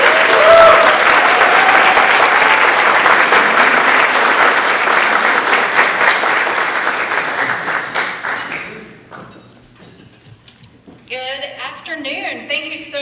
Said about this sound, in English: Please join me in welcoming Dr. Donna Hodge with a big round of applause.